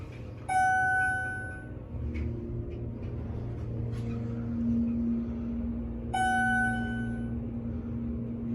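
Two single chimes from a Schindler hydraulic elevator in the West Parkade of CF Chinook Centre, several seconds apart, each a bright ringing tone fading out over a low mechanical hum.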